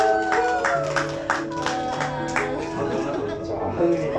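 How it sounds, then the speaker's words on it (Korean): Family guests at a child's first birthday party clap together in a quick, rhythmic burst over background music, while a host keeps talking through it. "우리 가족분들 다시 한번 큰 박수 부탁드립니다."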